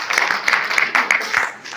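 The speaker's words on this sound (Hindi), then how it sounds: "एक बार तालियों से स्वागत करें" Audience at a Gorakhpur mushaira and kavi sammelan applauding to welcome a poet to the stage, a dense, steady burst of many hands clapping close by that fades slightly toward the end.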